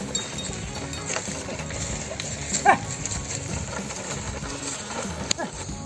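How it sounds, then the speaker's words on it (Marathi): A pair of bullocks pulls a traditional plough through a Konkan field, soft uneven hoof thuds and occasional clanks sounding at a moderate distance, while a person talks over the outdoor ambience. "जुन्या पद्धतीने बैलाच्या सहाय्याने नांगरले जाते ते"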